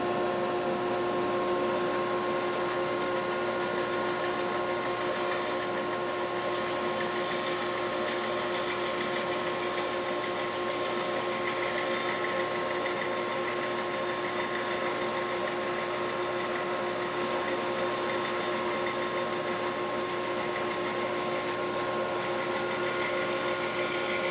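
A bandsaw runs steadily while cutting thin wood slices, giving a constant loud whirring drone with a thin high whine, unbroken and close, with no talking.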